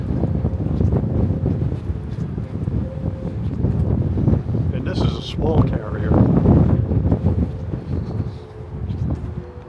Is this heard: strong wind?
yes